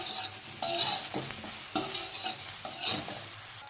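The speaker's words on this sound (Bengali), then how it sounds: "বেগুনটা বেশ একটু ভাজা ভাজা হয়ে যাবে।" Brinjal stir-fries in a wok over a low, steady sizzle, with four or five distinct spatula scrapes and taps against the pan spaced irregularly, close and moderately loud.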